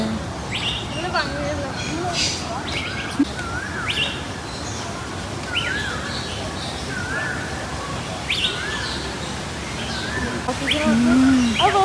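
Many birds in an aviary chirp and tweet in quick, overlapping calls nearby, while people talk over them throughout.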